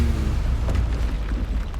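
A Bombarda spell in Hogwarts Legacy goes off as a loud, dense, rumbling explosion that fills the whole short moment without a break.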